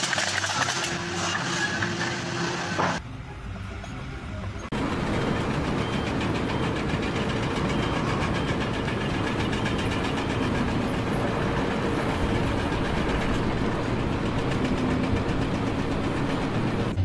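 A backyard miniature railroad train rumbles along steadily with a continuous mechanical clatter and engine drone, loud and close, after a brief quieter lull near the start.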